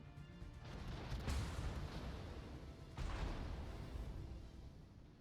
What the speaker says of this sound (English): Incoming fire from the Yamato secondaries